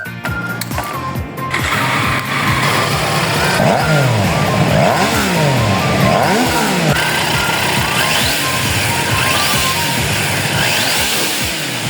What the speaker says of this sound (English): If you could just listen to what I'm hearing, this T3 engine, beautiful stuff.